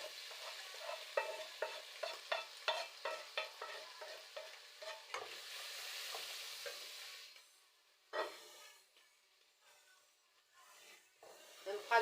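Sautéed meat stirred in a frying pan, a run of quick regular spatula scrapes over a steady sizzle, close up, easing off into quieter crackle near the end.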